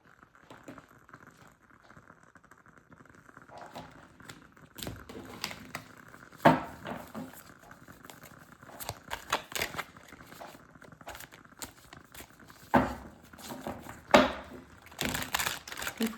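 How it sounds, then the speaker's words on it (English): A deck of cards being shuffled by hand, split into three piles, gives a few soft riffling and tapping bursts spread over a quiet background. "I'm gonna break this deck in 3 so we can really mix these cards"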